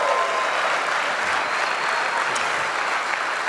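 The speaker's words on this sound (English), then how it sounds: "Maybe we can give them a round of applause and welcome tonight." An audience applauds to welcome guests at an evening info session, a continuous, even wash of many hands clapping that holds steady throughout.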